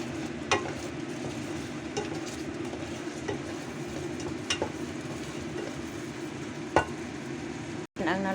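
Cooked udon noodles seasoned with ground black pepper sizzle softly in a pan while being stirred. A faint, steady frying hiss runs throughout, broken by a few sharp scrapes and clicks from the utensil.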